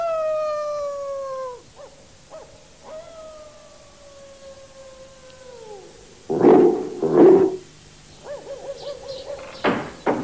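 Dogs in the animated film 101 Dalmatians, in its twilight bark scene, give long drawn-out howls that slide downward, then a few loud, sharp barks and yelps, with more barking bursts toward the end.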